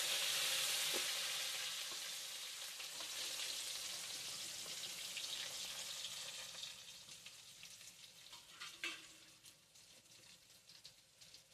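Curry leaves with onions fry in hot oil for a banana-flower dumpling curry. A bright crackling sizzle is loudest at first, then softens into quieter frying with a few faint stirring clinks and no speech.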